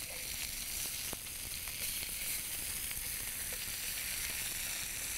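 A sculpin fish fillet sizzles steadily in a hot pan after being flipped, laid over vegetables, giving a dense continuous frying hiss with small pops and crackles and no talk.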